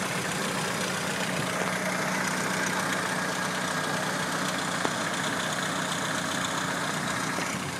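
A vehicle engine fitted with an HHO hydrogen kit, its gas fed through a check valve, separator and flash arrestor into the intake, idles with a steady, even hum that holds constant throughout, with no talking.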